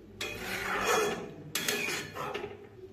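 A fish roe curry, with pieces of fried fish roe, being stirred and mixed in a pan, giving two long stretches of close, steady scraping and rubbing separated by a brief break, with no voices.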